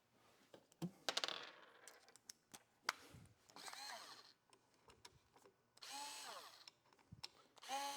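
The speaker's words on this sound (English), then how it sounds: "Get the drill." A power drill whirs in several short bursts, rising and falling in pitch, with clicks and small taps of screws and tools between runs, installing Harley-Davidson motorcycle grips.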